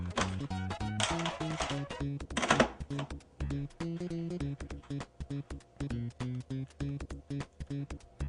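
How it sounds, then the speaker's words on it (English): An Atari 5200 console box clicking after being powered on: steady, rapid, rhythmic clicks that repeat throughout, over a tonal electronic buzz. "when you hit the power button, the box makes this weird clicking sound"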